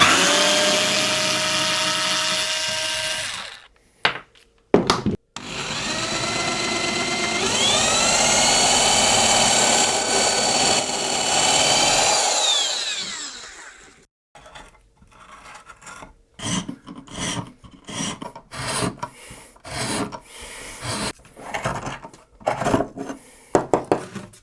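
A drill bit and reamer bore and rasp through the wooden body of an acoustic guitar at the endpin for a preamp jack, a long grinding whir that stops abruptly, then gives way to short scraping bursts.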